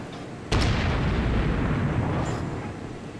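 A warship's big guns fire at the battleship Wyoming in a naval video game: one sudden heavy boom, then a long rumbling roar that fades slowly, with a faint extra crack near the end.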